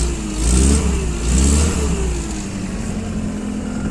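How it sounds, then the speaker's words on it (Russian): The petrol engine of a TCM FG20 two-ton forklift revs up twice in quick succession, rising and falling, then settles back to a steady idle, close and fairly loud. "Двигатель работает ровно, без проблем."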